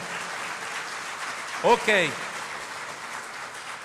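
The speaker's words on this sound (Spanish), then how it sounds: "Yo le doy una ofrenda de palmas al Señor porque Él ha sido bueno." Church congregation applauding as an offering to God, with steady clapping throughout, broken in the middle by a short spoken word.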